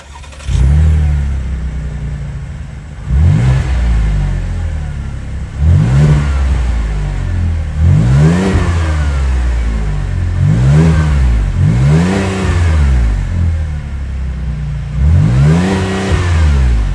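A Buick 3.6-liter V6 engine in a 2024 Buick Enclave Avenir revs repeatedly, climbing and falling in pitch six or seven times in a steady rhythm, loud and close, with a low idle rumbling between revs.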